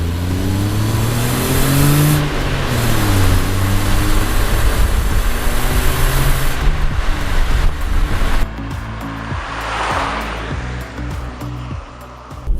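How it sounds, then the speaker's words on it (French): A VW Polo VI TSI Comfortline with a small 75 hp engine drives past, its steady mid-range engine hum and road roar rising and falling close by, then easing off near the end, with no talk. "La version que nous avons à l'essai cette semaine est équipée d'un petit moteur de 75 chevaux."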